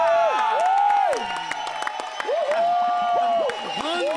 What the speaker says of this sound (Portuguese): Recebam com muitos aplausos nosso querido amigo